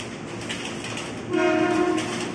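A Tokyo Metro 6000 series commuter train runs at Manggarai station in Jakarta. There is a loud steady rumble of cars, and a sustained horn tone rises over it near the end.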